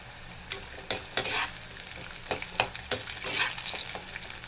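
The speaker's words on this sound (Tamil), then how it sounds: "இப்போ நான் வதக்கேன் இது கூடிய சின்ன வெங்காயத்தை போட்டுக்கலாம்" Small onions sautéing in a pan for garlic dosa, with a soft sizzle broken by a few sharp scraping and stirring strokes of a spatula, close up and moderately quiet.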